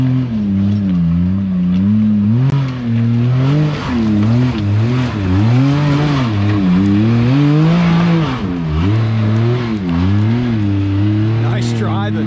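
A 72-inch off-road machine climbs an obstacle at Crossbar Offroad Park, its engine droning loud and near with repeated rises and dips in pitch as the throttle works, voices talking over it.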